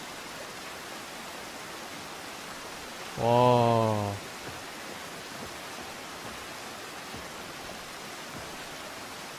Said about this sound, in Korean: 물소리가 들립니다.